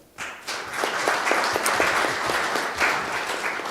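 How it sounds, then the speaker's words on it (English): An audience at a formal monetary policy announcement gives a full round of applause for the governor, deputy governors and MPC members, many hands clapping together in a steady, even roar that swells quickly and holds. "Can we please give the governor, deputy governors, and MPC members a big round of applause?"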